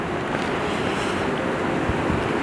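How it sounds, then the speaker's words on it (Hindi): Strong winter wind blowing at Sonamarg in the Kashmir valley, a steady, loud, broadband roar buffeting the microphone throughout with no talk. "इतनी तेज़ हवा है।"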